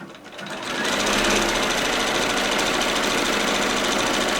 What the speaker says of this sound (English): just kind of go a little slower as you sew over it, but your machine should be fine